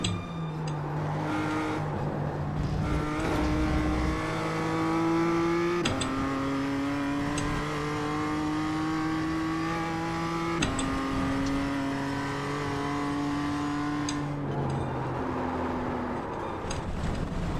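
A BMW M2 CSR race car's engine in the iRacing simulator at Oulton Park roars loud and continuously, its pitch climbing through each gear and dropping at every shift, with no talk over it.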